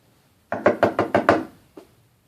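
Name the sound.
knocking on a wooden door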